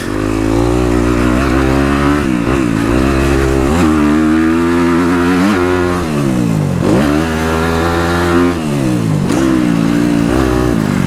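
A dirt bike engine revs loud and close along a motocross track, its pitch climbing and falling through several gear changes and throttle surges with no break.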